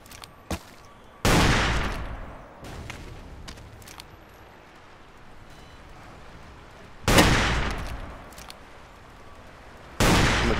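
Three loud, sharp gunshots in the video game Ace of Spades, spaced several seconds apart, each with a decaying echo, separated by quiet background noise and faint clicks.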